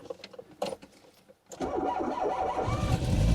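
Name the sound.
car engine starting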